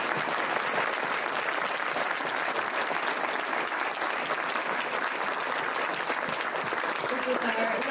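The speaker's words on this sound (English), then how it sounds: "If we can just do an amazing round of applause." An audience in a film festival theatre gives a sustained round of applause after a masterclass, many hands clapping in a thick, even roar that keeps up for several seconds.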